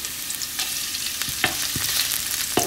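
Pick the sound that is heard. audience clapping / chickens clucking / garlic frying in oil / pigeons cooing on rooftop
garlic frying in oil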